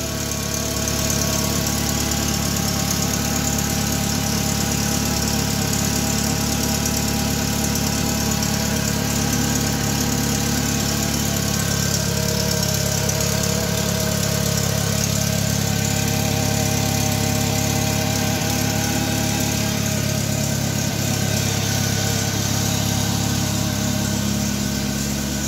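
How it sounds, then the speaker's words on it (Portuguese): Car engine idling steadily under the hood, with a constant whining alternator noise running through the drone; loud and close for the whole stretch, with no talking. "Barulho do alternador."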